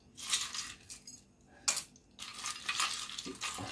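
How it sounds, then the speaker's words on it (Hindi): Ice cubes dropped into a blender jar of strawberry milkshake, making a few sharp clattering knocks and rattles, close and fairly loud, with pauses between bursts. "और थोड़ी सी आइस डालती हूँ"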